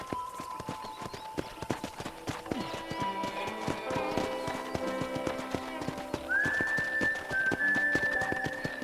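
Horse hooves clip-clop steadily through a Red Dead Redemption ride, with occasional whinnies, light game music and ambient western sounds at a constant moderate level.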